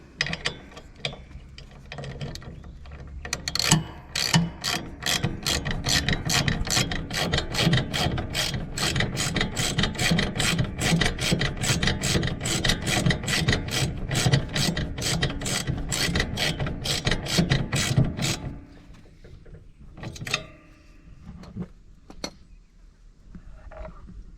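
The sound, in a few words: ratchet tightening a 14mm bolt nut on a mower deck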